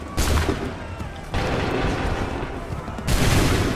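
Repeated musket volleys from a battle at Lexington and Concord in Assassin's Creed 3 crash out in dense, loud bursts, with fresh volleys breaking out roughly every second and a half amid continuous gunfire rumble.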